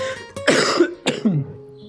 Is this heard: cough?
yes